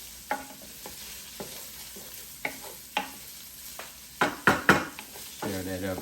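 Spam fried rice with onions is stirred in a Power XL cooker, a spoon scraping and clacking against the pot in irregular strokes over a soft, steady sizzle, close and clear with no talk.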